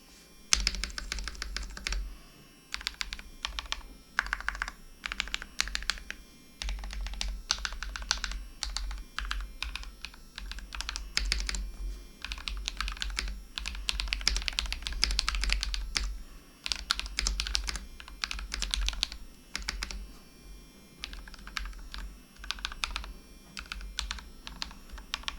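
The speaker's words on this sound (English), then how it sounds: "here is a sound test of the build" A custom Pokemon-themed mechanical keyboard being typed on steadily for about 25 seconds, with dense bursts of crisp key clicks and clacks, close and fairly loud, with short pauses between runs of keystrokes and no voices.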